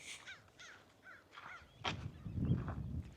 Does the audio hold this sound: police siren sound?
no